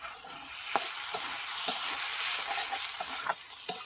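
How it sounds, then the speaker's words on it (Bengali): Potatoes and dhekia saag stirred in a pan once the lid comes off: a continuous hiss of frying with a few sharp scrapes of the spoon, close and fairly quiet, no voices. "এবার চাপা তুলে নেব, নেড়ে নেব।"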